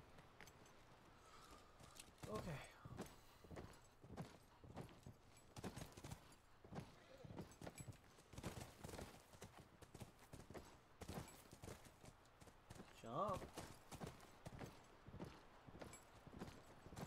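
Horse hooves clip-clop steadily in The Last of Us, a rhythmic walking gait close by that runs throughout, with a brief whinny-like call partway through and no talk over it.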